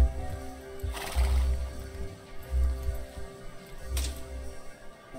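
A horse in Star Stable Online whinnies loudly twice, the neighs rising over rhythmic clip-clop hoofbeats and a low, steady game soundscape.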